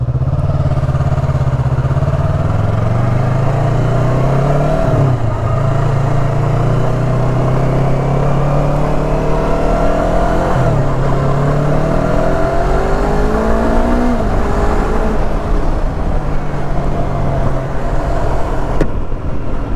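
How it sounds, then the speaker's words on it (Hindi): A Yamaha YZF-R3 motorcycle pulls away in first gear, its engine loud and close as the revs climb and fall through several rising sweeps, with steady road and wind noise throughout and no talking. "पहला गियर डालते हैं और चलते हैं।"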